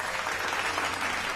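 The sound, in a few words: audience applause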